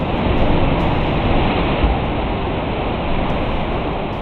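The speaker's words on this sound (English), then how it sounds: "One sea cave is known for its strange echoes, where crashing waves create haunting sounds." Waves crashing in a sea cave, a loud, dense roar of surging water that rumbles steadily without pause, close and unbroken for a few seconds.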